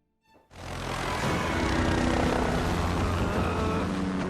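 A helicopter in a film scene bursts in after a brief quiet moment, then holds a loud, dense, steady rotor and engine roar up close until the end.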